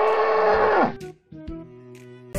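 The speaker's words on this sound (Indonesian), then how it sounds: "Wah, ada juga satu ekor kerbau nih teman-teman." A water buffalo in a dinosaur and animal video game lets out one long, loud, close moo that ends abruptly. A few soft game tones and clicks follow.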